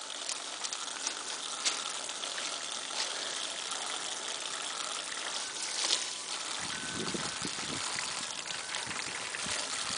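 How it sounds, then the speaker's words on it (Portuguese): Water pours from a household tap for a dog, a continuous splashing rush that stays steady and fairly close throughout, with no talk over it. "Deixa o papai botar água pro Uau."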